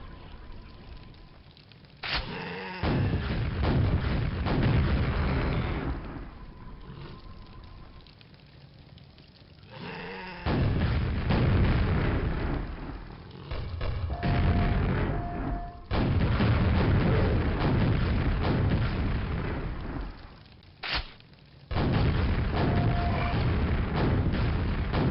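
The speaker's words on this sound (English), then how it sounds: "Oh, that's the rocket launcher." Rocket launcher fire in the game Quake sounds as a series of heavy, booming blasts with rumbling low-end sustain, separated by quieter gaps across the stretch, loud and close with no voices.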